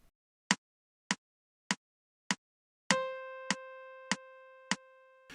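A saxophone holds one sustained whole note for four beats, preceded by four evenly spaced metronome clicks. The clicks keep ticking under the bright, steady tone, with no talking.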